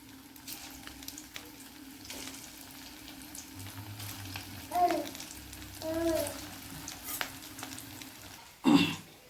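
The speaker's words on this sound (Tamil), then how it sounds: "இப்போ நான் எண்ணெயில் ஒன்று ஒன்றா போட்டு பொரித்து எடுத்தாச்சு." Steady crackling sizzle of mutton meatballs deep-frying in hot oil, with occasional clinks and stirring sounds and a faint voice in the background.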